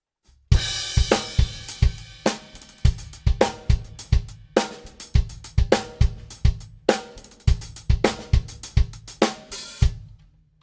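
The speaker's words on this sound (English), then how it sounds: "What you just heard was the drums through the full mic setup." A drum kit recorded through a full microphone setup, played in a steady groove, punchy kick and snare hits with crashing cymbals, loud and close, no voices.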